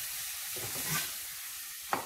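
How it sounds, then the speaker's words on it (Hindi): Soaked dal cooking with gram flour in a pan for kachori filling gives a soft, low sizzle with faint stirring scrapes, quiet and close, and a small clatter near the end. "मैं इसको दाल को बेसन के साथ पकाऊंगी"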